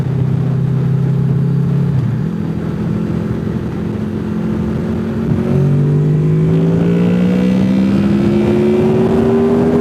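A car accelerating hard to overtake in a passing zone, its engine loud and close with a steady drone that shifts down then climbs steadily in pitch as it revs up.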